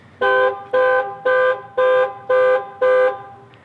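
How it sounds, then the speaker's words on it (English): A 2018 Dodge Challenger T/A 392's panic alarm honks the horn in six steady, evenly spaced blasts, loud and close, with no other sound between them. "It flashes the lights, beeps the horn."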